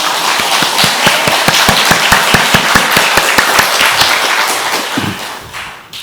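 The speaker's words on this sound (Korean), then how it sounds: "우리의 모든 마음을 다하여 영광의 박수로 올려드리겠습니다" A Korean church congregation at Sunday worship claps together in a steady, rhythmic beat, each unison clap landing with a soft thump over a bed of scattered hand claps, loud and close, tapering off near the end.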